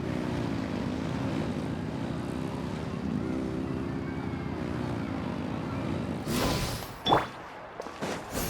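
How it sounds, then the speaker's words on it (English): Video game vehicle engines rev in a steady droning roar with a rising, wavering pitch, followed near the end by a few sharp bursts and a whine. "Rev the engines!"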